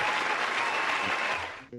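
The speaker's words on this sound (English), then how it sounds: "Big applause and hearts in the chat for these gentlemen." Brief burst of audience applause for the guests on a live stand-up comedy chat show, steady dense clapping that cuts off abruptly near the end.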